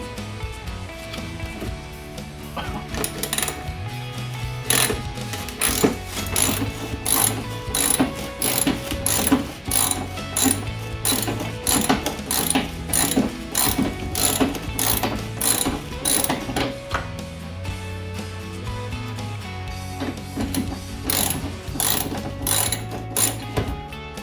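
A ratchet wrench cranks out screws from a C3 Corvette radiator core support, its rapid pawl clicking loud and close in long rhythmic bursts, pausing and resuming several times with no talking.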